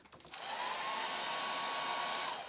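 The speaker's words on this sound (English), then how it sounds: "Just give it a blast with the hairdryer" A hair dryer drying a watercolor painting switches on and blows in a loud, steady whoosh for about two seconds before cutting off.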